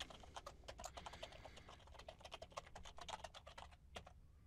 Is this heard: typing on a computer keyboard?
yes